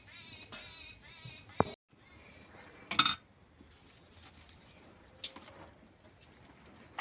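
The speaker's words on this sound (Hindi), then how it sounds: "सवेरे सवेरे जी चिड़िया इतनी जोर चहचहा और का चिड़िया चेचिया करती हैं" Birds chirp and coo outdoors in the early morning, fairly close by, while dishes and cutlery clink now and then in a kitchen where sweets are being prepared.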